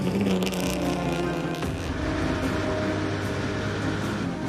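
Race car engine pushed hard at full speed, a steady loud droning roar with a few passing surges, continuous and close, no voices.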